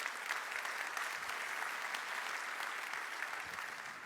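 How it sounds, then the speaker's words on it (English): An audience at a golf award ceremony applauds LPGA players with steady, sustained clapping throughout, heard from within the room at a moderate distance. "So a round of applause for the LPGA players."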